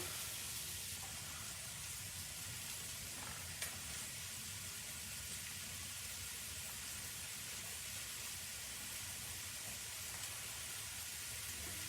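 Beef browning in a hot Dutch oven for stew, a steady, soft sizzle and hiss that stays even and continuous, fairly faint, with no voices.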